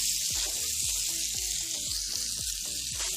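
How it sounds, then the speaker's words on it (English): Butter sizzles steadily as hot dogs roast in a pan, a dense continuous frying hiss with soft periodic low thumps from the pan, fairly loud and close, no voices. "So we will roast it in the butter."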